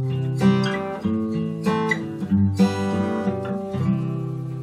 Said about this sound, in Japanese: これはアコースティックギターという電気を使わない、